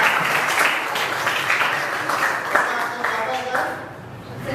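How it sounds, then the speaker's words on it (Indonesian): A classroom group claps during a teaching session, a loud, dense, steady patter of hands that tapers slightly toward the end. "kasih tepuk tangan dulu Pak"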